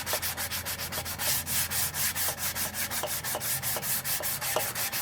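Wood being sanded by hand to smooth a groove, a brisk rhythmic back-and-forth rasping of many even strokes, close and steady, with no talking.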